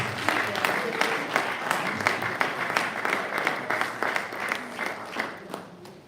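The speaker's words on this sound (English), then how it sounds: "A better round of applause, please." An audience at a university advisors workshop opening session gives a round of applause: sustained, even clapping from a room full of people, steady and moderately loud, tapering slightly at the end.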